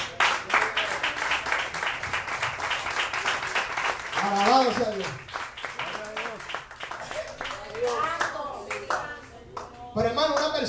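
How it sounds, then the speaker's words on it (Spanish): A church congregation applauding during an evangelical service, with steady rhythmic clapping under a voice speaking and others calling out. "Dale un aplauso al Señor."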